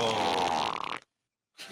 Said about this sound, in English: Come on, with the fart song.